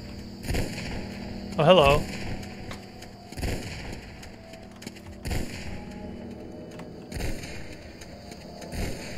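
Gunshots in the shooter game Hunt Down The Freeman: several sharp, booming reports scattered through the stretch at uneven intervals, moderately loud, with a brief exclamation spoken among them.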